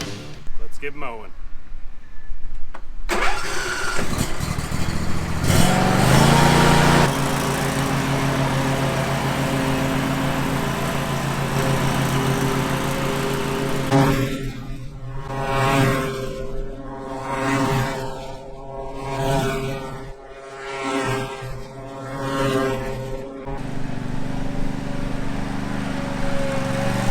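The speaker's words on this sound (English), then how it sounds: "right now we're going to get mowing" A lawn mower engine kicks into a steady drone while mowing over an acre of ground being prepped for seeding, holding a loud, even hum with a person talking over the motor in places.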